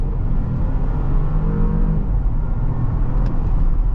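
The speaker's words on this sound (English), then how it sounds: "Let's test out the acceleration." A 2024 Porsche Cayenne with a 3-liter twin-turbo V6 accelerates, heard from inside the cabin as a steady, loud low engine rumble and road drone with no talking.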